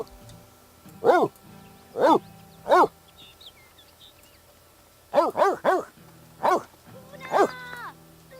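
A dog in The Sims 3 barks in scattered bursts, first three single barks, then a quick triple, then two more spaced barks, each sharp and close, over a quiet game background.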